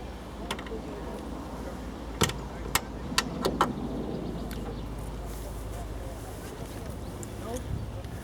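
A small Jaguar 2.5 V8 idles quietly at an outdoor car club meet, giving a soft, steady low hum with a few sharp clicks and taps over it.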